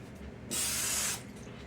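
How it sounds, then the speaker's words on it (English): A short, close burst of cooking spray hisses onto a griddle between batches of beer batter hotcakes, lasting under a second against a quiet kitchen background. "Let me spray this one more time."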